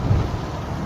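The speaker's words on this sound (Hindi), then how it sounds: "ये सऊदी अरब का मौसम है बहुत प्यारा है क्योंकि इधर बारिश हो रहा है आज" Rain falls over a village in Saudi Arabia, a steady wash of downpour close by with a low rumble underneath, continuous and fairly loud.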